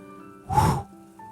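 A single short, breathy puff of air, a voice imitating a blowing breath, brief and close against a quiet background.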